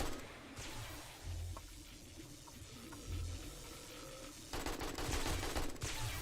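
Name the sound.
AK rifle gunfire in the video game 7 Days to Die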